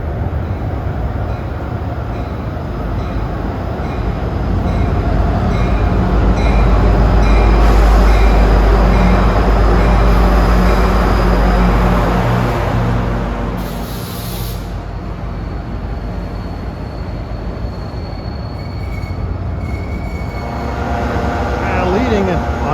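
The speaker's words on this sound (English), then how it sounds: "approaching at 2:54 is train 49 en route from Hoboken to Middletown." New Jersey Transit train 49 from Hoboken to Middletown, led by a Metro North F40PH-3C diesel locomotive, rumbles past loudly and up close with a sustained roar of engine and wheels that swells mid-pass, plus a brief horn-like tone.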